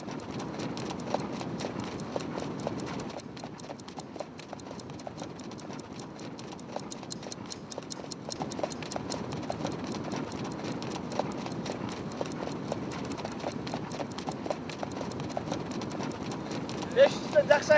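A horse's hooves clip-clop in a quick, steady, even rhythm from start to finish. The sound is moderately loud and continuous.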